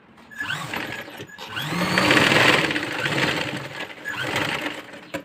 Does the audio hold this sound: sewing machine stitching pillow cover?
yes